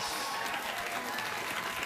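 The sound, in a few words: studio audience applause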